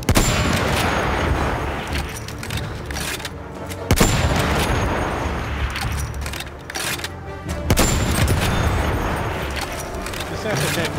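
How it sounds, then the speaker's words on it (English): Anti-tank rifle shots in the video game Battlefield 1: two heavy, booming reports a few seconds apart over dense battlefield noise, with players talking throughout. "This anti-tank rifle is great."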